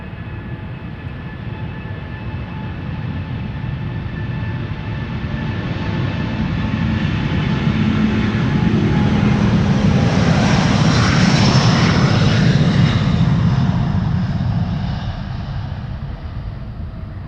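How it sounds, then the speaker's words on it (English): A Delta Air Lines A330neo departing Amsterdam Schiphol gives a loud, sustained jet roar that builds steadily to a peak as it passes near, then begins to fade, alone with no voices. "Delta Airlines Flight 137 A330neo to Detroit, Michigan"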